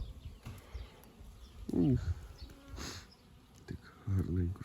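Honey bees fly around hives at a spring apiary, giving a soft, fluttering buzz close by, with brief faint voice-like sounds mixed in.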